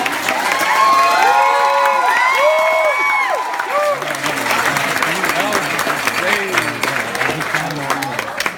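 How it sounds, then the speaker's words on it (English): Wedding guests give a big round of applause for the maids of honor and best man, loud steady clapping mixed with cheers and whoops that carry on throughout, with voices talking and calling out over it. "Ladies and gentlemen, one more big round of applause for our maids of honor and best man."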